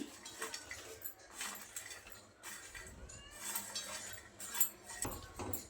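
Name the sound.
stirring bitter gourd pickle with a spoon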